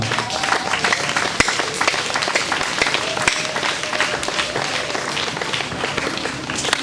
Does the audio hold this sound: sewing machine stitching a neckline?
no